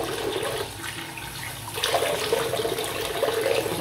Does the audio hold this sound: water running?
yes